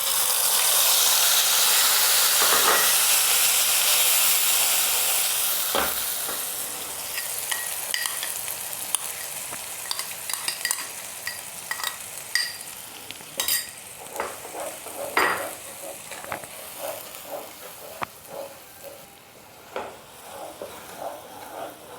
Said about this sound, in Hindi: तो मसालों को अच्छे से भून लेंगे।